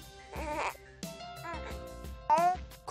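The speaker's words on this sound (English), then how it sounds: "fussing," An infant fusses in short, whiny bursts of complaint, several uneven cries separated by brief gaps, close and moderately loud.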